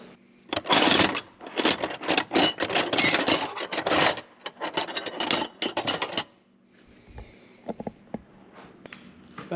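Wrenches strain and scrape against stubborn bolts on a vintage snowmobile that sat for 15 years, with several loud, uneven bursts of metallic rasping and grinding, then quieter scattered clicks and taps.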